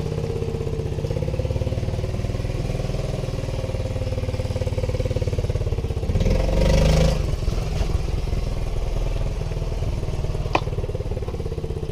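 A 1988 Honda Z50R minibike engine runs steadily outdoors at night, a low, even putter close by with a short surge of revving midway and faint clatter, no voices.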